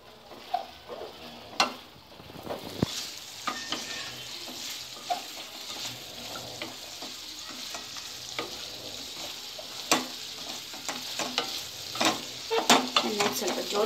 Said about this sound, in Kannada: ಜೋರಾಗಿ ಇಟ್ಕೊಂಡು ಚೆನ್ನಾಗಿ ಫ್ರೈ ಮಾಡಬೇಕು